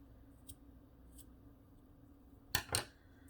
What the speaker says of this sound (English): I'm going to cut off the excess with my scissors